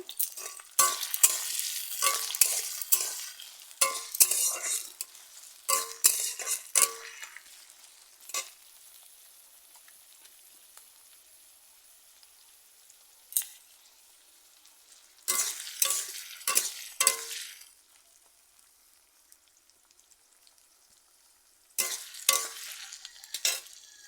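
Onions stirred and sizzling in a hot pan, in repeated bursts of scraping and frying separated by quieter stretches of soft sizzle.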